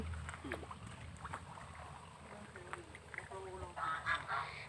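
Ducks quack faintly on a rural farm with fish ponds, geese and chickens, scattered short nasal calls over a quiet outdoor background, growing busier and closer near the end, with a voice speaking now and then.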